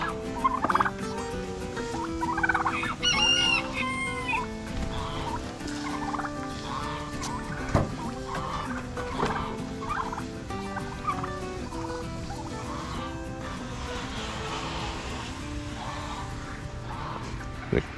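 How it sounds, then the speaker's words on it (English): Turkeys gobble repeatedly in a busy flock, loud rattling calls overlapping one another with some background noise throughout. "The cute birds. I like the turkeys."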